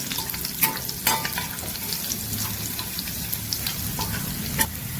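Dried red chillies and garlic fry in hot oil, a loud, close, continuous sizzle with sharp crackles and a few louder spits and pops.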